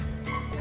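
A dog gives a single short, sharp bark at an animal shelter for cats and dogs, close by, with faint background noise.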